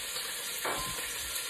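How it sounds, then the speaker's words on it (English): Skin-on chicken thighs hit a hot pan and give a soft, short burst of sizzle over a steady faint hiss. "you want the skin to make that sizzle"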